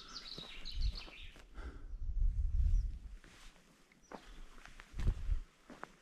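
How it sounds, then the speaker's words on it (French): Footsteps crunch on the ground outdoors in the Verdon countryside, a few close, soft treads and shuffles amid quiet surroundings, while small birds chirp and sing in brief high calls nearby and farther off. "Il n'y a que celui des oiseaux, de mes pas qui craquent"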